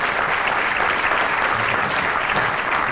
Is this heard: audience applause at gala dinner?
yes